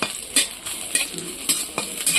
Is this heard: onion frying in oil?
yes